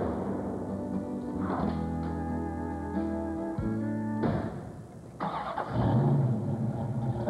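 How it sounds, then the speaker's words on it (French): A car engine turning over and running, its low tonal hum holding steady, then cutting off and restarting with a thump and a brief rev, heard alone with no speech. "Veux-tu l'entendre, le moteur?"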